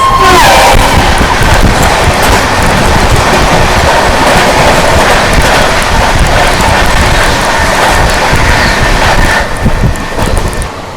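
The LTT Jaynagar Pawan Express arrives with a loud, steady rush of wheels and carriages rolling close by, a continuous heavy rumble that holds for the whole stretch before easing slightly at the end.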